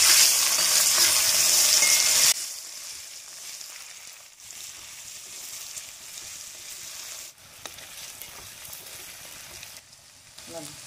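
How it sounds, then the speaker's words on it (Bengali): Turnip and potato pieces fry in leftover fish-frying oil, a loud crackling sizzle for the first two seconds that settles into a quieter, steady hiss with small stirring bumps. "দেখো মাছ ভাজার তেলে আমি শালগম আর আলুগুলো ছেড়ে দেবো, এর মধ্যে আর তেল দেবো না।"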